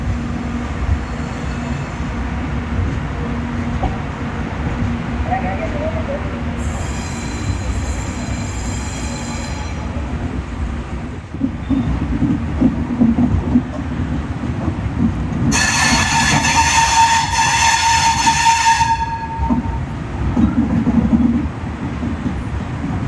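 The Nellai Express, train 12632, rolls slowly into Tiruchirappalli Junction with a steady rumble of wheels and carriages, two long high-pitched wheel squeals, and faint background voices.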